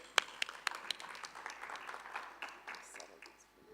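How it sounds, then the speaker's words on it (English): A handful of sharp, close claps opening into scattered applause from a small conference plenary audience that gradually thins out. "A big round of applause for Ishra."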